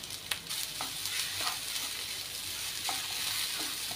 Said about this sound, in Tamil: இப்போ இதை நெய்யில் வறுத்து எடுத்துக்கலாம்.